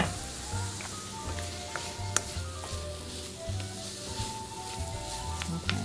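Sausage sizzles in a frying pan, a steady bright crackle of hot fat with occasional sharper pops and a faint low hum of the stove underneath.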